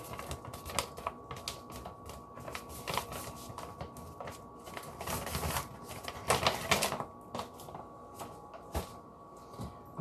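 A whisk stirs protein powder in a kitchen, giving irregular clattering, tapping strokes with brief louder bursts, fairly close and without talk.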